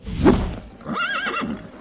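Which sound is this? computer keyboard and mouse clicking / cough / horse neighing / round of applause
horse neighing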